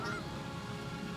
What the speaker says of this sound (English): I can hear the ducks, you know, walking in the pond, quacking away.